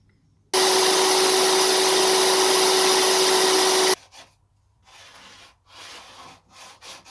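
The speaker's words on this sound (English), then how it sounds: "we still need to do a fine sandpaper cut" Sandpaper rubbed hard over a scrap-wood guitar pickguard gives a loud, steady scratchy hiss that lasts about three seconds and then stops abruptly, followed by fainter, intermittent short strokes.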